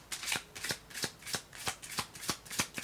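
Oracle cards shuffled by hand, about eight soft, crisp riffling sweeps in a steady rhythm, close and quiet with no talk.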